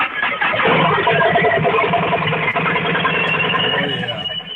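A custom-fabricated motorcycle engine runs at a motorcycle rally and show, a loud, steady, close exhaust drone that fills the whole stretch without letup.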